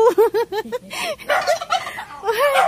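On a farm, a turkey gobbles close by in a quick rippling run of calls. Then someone speaks, and a brief second gobble comes near the end.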